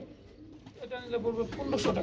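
Soft, low pigeon cooing, including Spanish pouter pigeons, repeats at a pigeon sale under a busy background of voices and rustling, fairly close.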